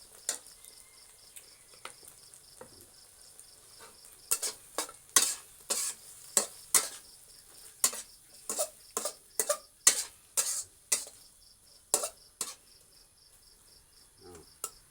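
Vegetables are stir-fried in a pan with oil and the water poured off from rice cooked the old Thai way. A spatula scrapes and clatters against the pan in sharp, irregular strokes over a soft sizzle and steady insect chirping.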